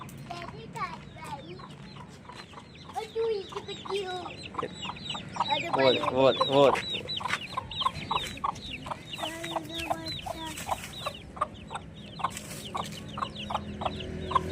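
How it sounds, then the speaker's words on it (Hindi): Aseel hens cluck and chicks peep in quick, busy bursts nearby, with a few brief voices talking now and then. "वो देखो मुर्गी के बच्चे हैं।"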